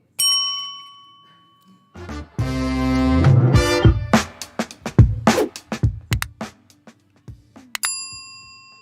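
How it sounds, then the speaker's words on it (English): A bell rung on a real estate talk show, starting with a single clear ding and followed by a bright, rapid, clanging ring, then a run of separate metallic strikes that slowly fade out. "let's go ahead and hit the bell and go to topic 1."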